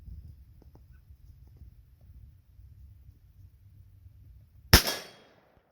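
A single sharp gunshot from a .38 Special revolver firing a Buffalo Bore heavy load, loud and close, cracking out of a quiet low rumble and ringing off briefly.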